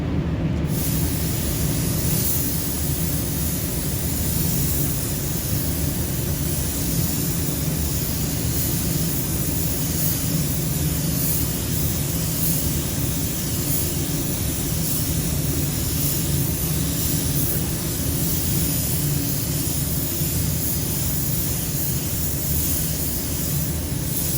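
Paint spray gun misting automotive paint onto a car in a painting class, a steady close hiss of airflow running unbroken for the whole stretch with no talking.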